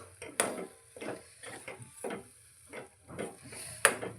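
A spoon stirring upma semolina in a pan, a quiet series of irregular scraping and tapping strokes against the pan, close and soft.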